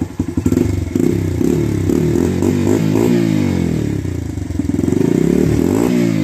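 A motorcycle with a repacked muffler and newly made baffle idles and revs close by, its loud, raspy exhaust rising and falling through several throttle blips over a clattery engine rumble.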